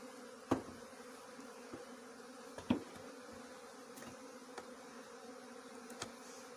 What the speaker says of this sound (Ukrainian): Оце наші бджоли